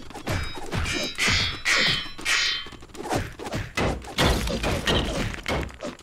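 Repeated melee sword swings and impacts in Lego Indiana Jones 2 video game combat. Thwacks, thuds and crunchy smash effects follow one another rapidly and loudly throughout, with no pause.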